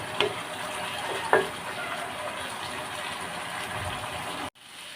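Leftover chicken and potatoes cooking in a pot are stirred, giving a soft steady simmering hiss with two sharp clinks of a utensil against the pot early on.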